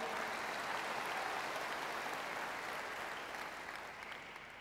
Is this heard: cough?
no